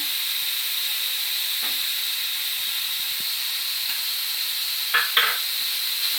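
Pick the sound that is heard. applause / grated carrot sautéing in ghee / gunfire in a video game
grated carrot sautéing in ghee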